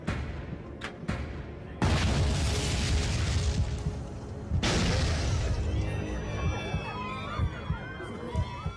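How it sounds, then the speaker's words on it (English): Dramatized explosions aboard Japan Airlines Flight 123, two heavy roaring blasts that hang on through a rushing wall of noise, with whistling tones rising at the end, loud and continuous with no clear speech. "Two explosions rock the plane."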